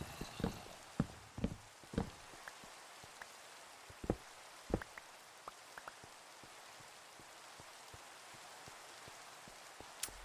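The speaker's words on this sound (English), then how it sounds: "Keep on trying to sleep the rain away, but it's not a thunderstorm." Rain in a video game patters softly and evenly beneath scattered sharp ticks and drips, all fairly quiet and with no voices.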